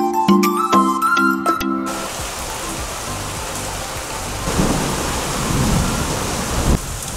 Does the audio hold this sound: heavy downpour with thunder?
yes